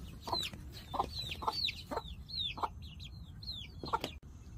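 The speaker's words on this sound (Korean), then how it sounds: "더운 날씨에 육아 잘하는 우리 우골개 얼마나 알뜰한지 몰라요" A silkie hen raising her chicks makes a string of short, close clucks in an uneven rhythm, with higher chick peeps mixed in between them.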